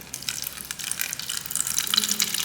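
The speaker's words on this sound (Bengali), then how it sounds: "এবার এর মধ্যে আমি অল্প পরিমাণে জল দিয়ে দেব" A little water poured into a bowl of sugar and okra, a light splashing trickle that builds slightly in strength over a couple of seconds, close by.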